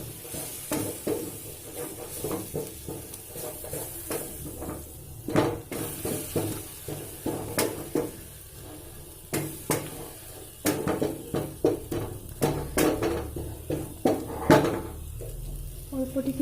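Fish curry being stirred and mixed in a pan with yogurt-style masala, spoon scraping and clinking against the metal in uneven bursts over a soft sizzle, close and moderately loud throughout.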